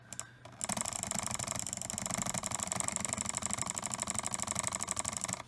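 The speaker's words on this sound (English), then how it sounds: "Alright, try jitter click." Fast jitter clicking on a Havit HV-MS733 gaming mouse, a dense, even rattle of rapid close clicks running continuously after a brief quiet start.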